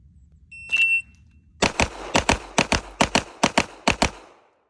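Shot timer beep starting a shooting drill: one short high electronic tone, then a rapid string of about ten loud gunshots in quick rhythm, no talk.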